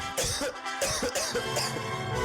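Several harsh coughs in quick succession, close and fairly loud, with a brief throaty rasp between bursts.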